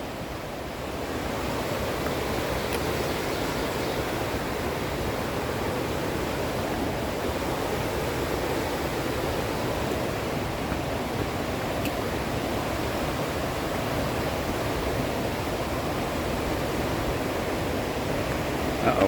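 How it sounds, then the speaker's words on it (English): A river flowing beside a hiking trail on the Appalachian Trail, a steady, even rush of water that holds at a moderate level throughout and carries no voices. "Just listen to the sound of the river."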